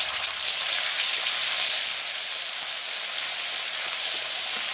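Cumin paste sizzles in hot mustard oil with whole five-spice seeds, a steady, dense crackling hiss with no pauses, close and fairly loud, and no voices.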